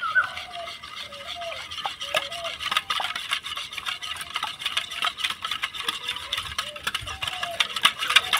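Hand whisk beating an ice cream mixture made with biscuits and chocolate in a bowl, a fast, steady scraping and clinking rhythm that is close and busy, with faint chirpy sounds in the background.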